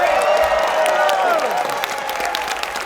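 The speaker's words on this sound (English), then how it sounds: "You're cheering all of Carpinteria," A banquet audience at a community awards dinner cheers and whoops with scattered clapping, a lively sustained crowd noise with a voice rising over it.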